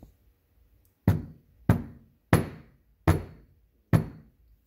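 An espresso portafilter basket of coffee grounds is knocked down five times to settle the grounds, each a sharp close thump with a short decay, spaced roughly evenly in otherwise quiet surroundings.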